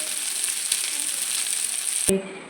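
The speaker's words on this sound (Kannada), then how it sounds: "ಇವಾಗ ಫ್ರೈ ರೆಡಿ ಆಗ್ತಾ ಉಂಟು ನೋಡಿ ಇಲ್ಲಿ ಒಳ್ಳೆ ಕಾಯ್ತಾ ಉಂಟು ನೋಡಿ" Bangude mackerel coated in homemade masala fries in a pan with a loud, close, continuous hissing sizzle that cuts off abruptly near the end, leaving faint clatter.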